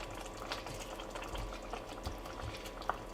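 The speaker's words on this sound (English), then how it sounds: "as it is already boiling, we're going to turn it down a little bit and just let that simmer" A pot of cumin-spiced sauce bubbling at a steady boil that is easing into a simmer, a dense, even wash of small pops and hisses with a couple of sharper bursts near the end.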